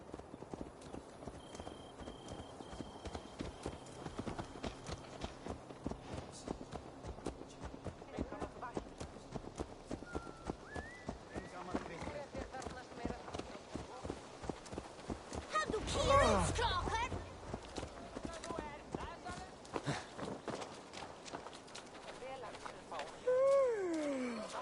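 A horse's hooves clip-clop in a steady rhythmic gait in Assassin's Creed Valhalla, close and clear throughout, with character voices speaking over the hoofbeats and a brief whoosh midway.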